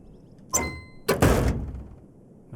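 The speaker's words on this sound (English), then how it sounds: "Close the aircraft's door." Aircraft door in the Deadstick Bush Pilot Simulator video game closes with a short sliding clunk followed by a heavier thud and fading rattle, close and alone.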